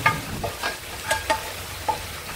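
A katla fish head fries with potatoes in a pan, a low sizzle broken by several sharp scraping stirs of the spatula at irregular intervals, with no talking.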